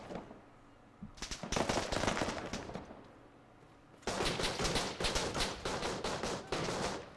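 Bursts of automatic gunfire in the Arma 3 military shooter, two long loud rattling volleys separated by a quieter gap, sounding close and dense with no speech.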